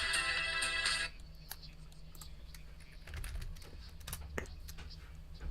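A phone ringtone chimes loudly for about a second at the start, then stops, leaving quiet keyboard typing and small clicks in a room during a live stream.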